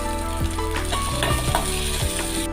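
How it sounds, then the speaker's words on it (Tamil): Onions sautéing in a pan for a ridge gourd stir-fry, a loud, steady close sizzle with occasional stirring scrapes, no talk. "வெங்காயம் ஓரளவுக்கு நல்லா வதங்கும் நமக்கு."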